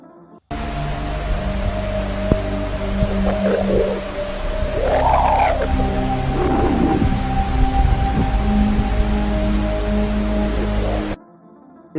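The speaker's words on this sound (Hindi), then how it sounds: "ये आवाज़ सूर्य से निकलने वाले सौर तूफान की खास तरह की डिप्रेसिव वेव्स पैदा हो रही है।" A solar storm's plasma waves from the Sun are rendered as sound: a steady droning hum carries low tones and wavering, whale-like swoops over a broad hiss, loud and continuous before it cuts off.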